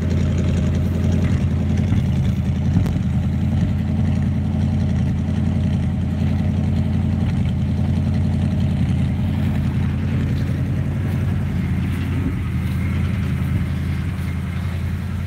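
A cold car engine idles steadily after its fast idle drops off, a loud, even low rumble close by that holds throughout with no talking.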